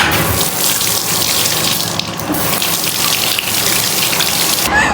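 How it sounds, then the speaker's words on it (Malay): Hot water runs steadily from a tap onto hands being washed at a sink, a loud continuous splashing hiss with no talk over it. "Nak basuh tangan dengan air panas"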